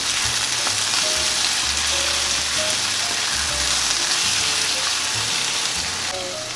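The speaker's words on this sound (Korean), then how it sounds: "굴을 다 넣지 않고 처음에는 육수용 정도로 3분의 1 정도가 넣어서 먼저 볶아주겠습니다." Oysters being stir-fried in a titanium-coated nonstick frying pan, a steady close sizzle and crackle of frying with occasional stirring scrapes throughout, no voices.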